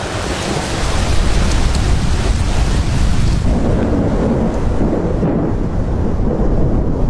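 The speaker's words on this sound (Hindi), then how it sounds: "लेकिन तभी दूर आसमान में बिजली कड़की" Deep rolling thunder rumbles loudly and continuously, a broad heavy roar that eases slightly partway through, with a hiss like rain or wind beneath.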